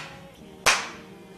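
A single sharp hand clap rings out at an interview shoot to mark the start of filming, loud against a quiet room.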